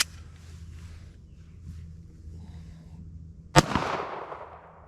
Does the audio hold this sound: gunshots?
yes